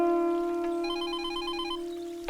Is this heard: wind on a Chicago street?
no